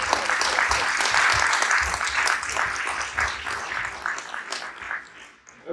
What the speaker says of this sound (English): now that we've applauded and gotten that out of our system